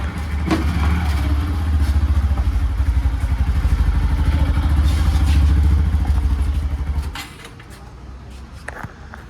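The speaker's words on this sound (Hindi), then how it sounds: "तो गाइस, जैसा कि आपको दिख रहा होगा, मैं बाइक चला रहा हूँ," A motorcycle engine chugs with a steady rhythmic putter while being ridden, loud and close, then cuts down abruptly near the end, leaving quieter rattles and handling noises.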